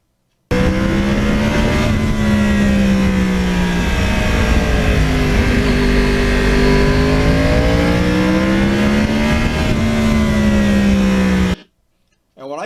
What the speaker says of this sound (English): there is something special about that cross-plane motor. When you back off the gas, the sound is unbelievable.